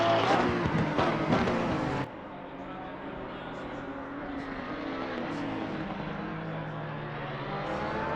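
GT3 race cars lapping Silverstone in Assetto Corsa Competizione during a qualifying session give off a steady engine drone and whine, loud for the first two seconds and then a fainter continuous hum, under a commentator's voice.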